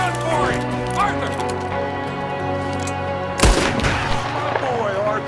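Gunfire in Red Dead Redemption 2 during a snowstorm fight with O'Driscoll gang members, including one loud sharp shot that cuts through a sustained bed of game music and ambience, with speech around it.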